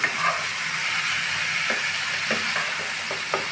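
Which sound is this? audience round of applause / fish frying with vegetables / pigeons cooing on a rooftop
fish frying with vegetables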